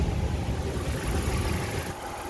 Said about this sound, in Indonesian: Bisa kita dengarkan mesin dari Hyundai ini masih terdengar